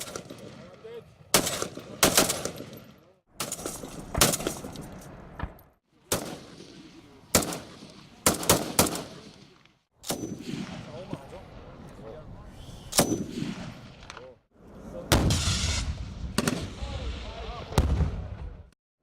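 A live-fire military exercise at a firing range brings repeated sharp blasts of gunfire and artillery, about a dozen loud reports spaced irregularly, each with a rumbling echo tail.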